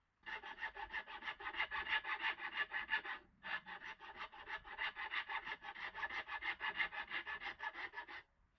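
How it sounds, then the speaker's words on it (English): A Shinto rasp files wood in steady, rhythmic back-and-forth strokes, loud and close, with a short pause near the middle before the rasping resumes. No one speaks. "I finish the job off with a Shinto rasp and then some sandpaper"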